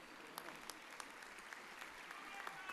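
A commencement audience applauds with a faint, scattered round of clapping from a distance, with individual claps popping out of a soft crowd wash.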